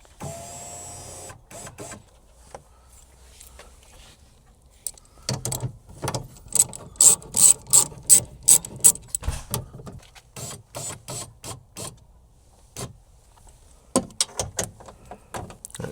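Power window regulator motor in a 2017 GMC Sierra 1500 door running the glass up, heard as a series of short mechanical whirring bursts with pauses between them, close and fairly loud, with no talking.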